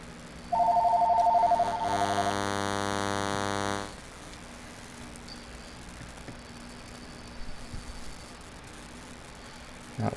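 A telephone in an old railway dining car gives a short electronic trill, followed by a loud sustained buzzing tone that lasts a couple of seconds and then stops. Faint room noise and small knocks follow.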